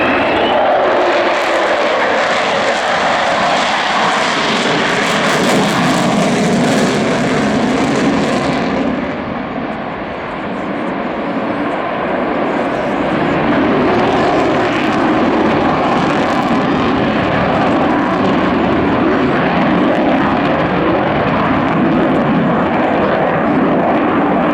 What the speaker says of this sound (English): Magnificent sound of 4 Rolls-Royce Olympus 202 engines